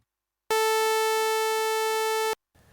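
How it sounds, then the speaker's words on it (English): A Z3TA 2 software synthesizer plays a sawtooth waveform: a bright, buzzy sustained tone rich in harmonics that starts abruptly, holds for about two seconds, then stops sharply, with faint noise afterward. "It looks like a sawtooth and it sounds like this."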